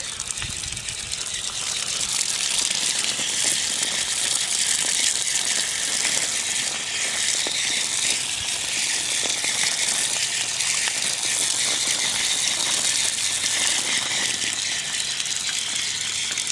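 Water gushes steadily from a tap, a continuous bright splashing stream with faint rattling as a paper towel is rinsed under it.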